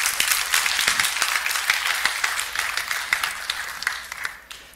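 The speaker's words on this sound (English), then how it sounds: "So just a round of applause." A tech summit audience at a conference gives a round of applause, dense clapping that fills the room at moderate loudness and gradually fades out over a few seconds.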